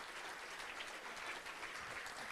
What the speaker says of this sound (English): give Stephanie a huge round of applause